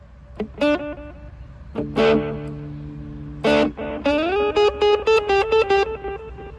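Synthesizer-like tones pass through a delay effect, each note repeating as trailing echoes with reverb washing behind them; no voices.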